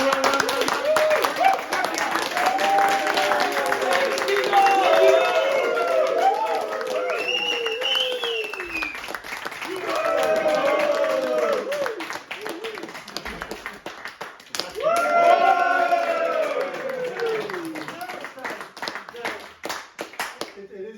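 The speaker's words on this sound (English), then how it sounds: "Start the clap." A concert crowd in Dublin claps steadily in rhythm at the start of a show while a voice talks and sings over it, loud and close.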